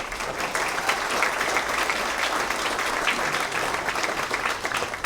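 An audience at the Lone Sailor statue ceremony at Quincy Navy Park applauds, a dense, steady wash of many hands clapping that holds evenly for several seconds.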